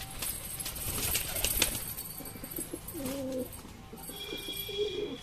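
Several pigeons just out of their loft give low, throaty coos in short phrases, layered over steady outdoor ambience with faint chirping birds nearby.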